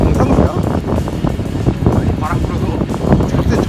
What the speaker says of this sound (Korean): 바람이 불어가지고 지금 바람이 어쩔 수가 없어